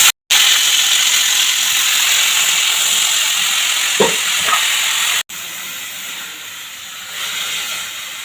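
Chopped shallots hit hot coconut oil in a frying pan and set off a loud, steady sizzle and hiss that runs almost unbroken, with a brief cut near the start and soft clicks of utensils midway.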